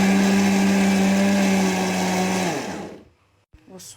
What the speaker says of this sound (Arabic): تعالوا اوريكم بقى بعد ما هنضربه على الخلاط.